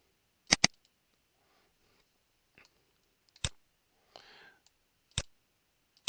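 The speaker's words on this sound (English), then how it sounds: "I can double click to differentiate between the different fields." A computer mouse gives quick paired clicks, sharp and close, repeated a few times with short quiet gaps between the double clicks.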